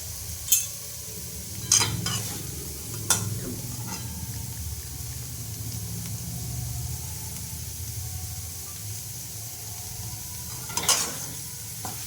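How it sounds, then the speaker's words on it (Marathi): Paneer bhurji frying in a pan gives a steady low sizzle, with a few sharp scraping clinks from stirring near the start and again near the end. "तर याला व्यवस्थित फ्राय करायचं"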